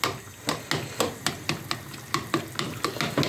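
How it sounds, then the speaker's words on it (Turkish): Spoon stirring food in a frying pan over a steady sizzle, with evenly spaced scraping strokes about every quarter second, close and moderately loud. "Yemeğimizi karıştırıyoruz."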